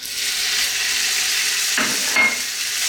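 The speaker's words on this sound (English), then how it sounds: "We're going to get in our beef." Thin beef strips hit hot oil in a skillet, giving a loud, steady sizzle with a couple of brief stirring scrapes partway through.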